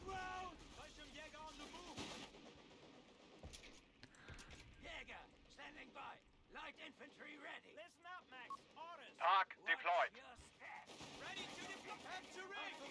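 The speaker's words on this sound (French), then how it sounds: "Il y a le canon qui est en train de tirer là." Cannon and artillery fire in the WWII strategy game Company of Heroes 3, a string of booms and shell impacts among battle noise, with a louder cluster of blasts midway and talk over it.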